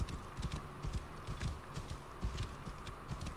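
Horse hooves clip-clopping in the Egypt-set video game Assassin's Creed Origins, a soft steady walking rhythm of low thuds over a faint ambient bed, no talking.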